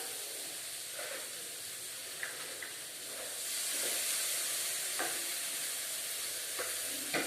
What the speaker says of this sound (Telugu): ఇప్పుడు ఆల్రెడీ మిక్స్ చేసి పెట్టుకున్న శనగపిండిని మిక్స్ చేద్దామండి, యాడ్ చేద్దాం.